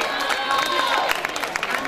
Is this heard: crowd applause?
yes